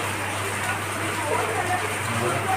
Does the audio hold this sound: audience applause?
no